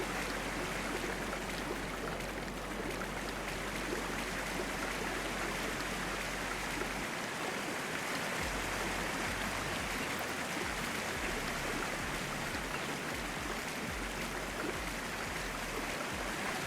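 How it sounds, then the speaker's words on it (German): Whitewater washes over the bow of a kayak in the Whitewater VR video game, a constant close roar of rushing, splashing river water that continues steadily without breaks. "Schöne Welle über den Bug."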